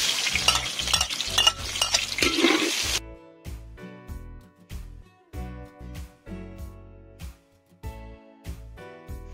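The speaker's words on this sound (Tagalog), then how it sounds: "Dito sa mainit na kawali, ilagay natin sabay yung bawang at sibuyas." Garlic and onion frying together in a hot pan, with a loud burst of sizzling at first. It then gives way to rhythmic stirring and clattering that comes and goes, close by and with no talking.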